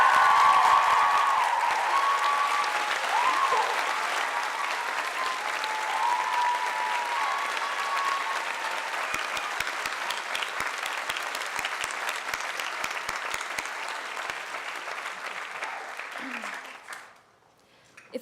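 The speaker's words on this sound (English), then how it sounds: "Can we please give them a round of applause?" Audience at a 2012 commencement ceremony gives a sustained round of applause, a steady wash of clapping that fades near the end into quiet.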